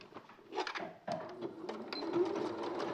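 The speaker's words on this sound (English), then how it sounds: "So I'll sew this leg on quickly." A sewing machine stitches a leg seam on black fabric at a quarter-inch seam allowance, a close, fast continuous whirring that starts and stops briefly before running steadily.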